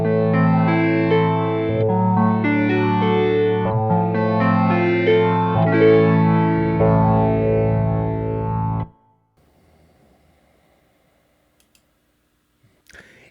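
Pianoteq vintage reeds W260 electric piano preset playing a short chordal phrase with a warm, bell-like reedy tone, sustained notes ringing for several seconds before stopping, followed by near silence and a few faint clicks.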